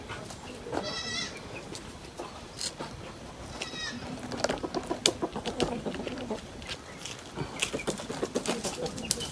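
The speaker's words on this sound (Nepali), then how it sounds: "कुखुरा यो हो नि त रियल कुखुरा भनेको" Chickens on a farm in Nepal cluck and squawk at close range, with bursts of wing flapping and scattered calls over a busy background.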